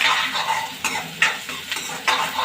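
Onion and ginger-garlic paste sauté in a pan with a close, hissing sizzle broken by four or five sharp spatula scrapes in a loose rhythm.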